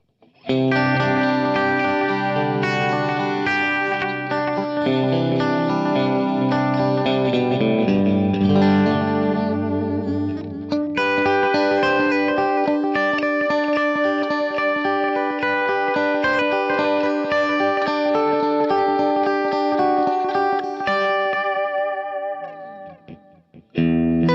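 An electric guitar playing sustained chords and melodic lines through a JHS Pink Panther tape-style delay, wavering and echoing with a warbling modulation, continuous and fairly loud throughout.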